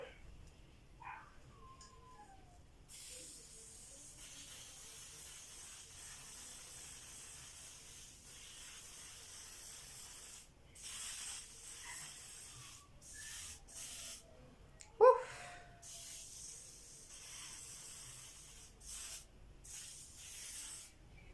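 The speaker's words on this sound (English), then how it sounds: "the next step, I will be spraying it with this one." A spray bottle misting a semi human wig, soft airy hissing spritzes repeated in short bursts close by, with quiet rustling and handling in between.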